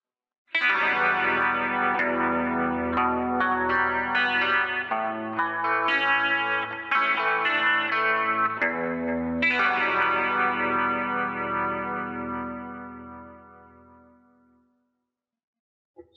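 An electric guitar through a Line 6 Helix with a Variax plays a sequence of notes drenched in eighth-note delay repeats and reverb, building a shimmering wash before slowly fading out alone.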